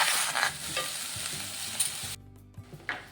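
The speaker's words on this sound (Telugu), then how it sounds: "కొద్దిగా మంచిగా ఫ్రై చేసుకుంటాం." Tomatoes fry in a pan for chutney with a steady broad sizzle and repeated stirring scrapes; the sizzle drops away near the end, leaving a few distinct spoon knocks against the pan.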